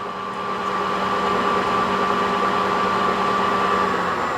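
A Supertec 1640V 16-inch by 40-inch heavy-duty gap bed engine lathe runs steadily, a close, even mechanical hum and whine that holds constant as its variable speed is slowly raised.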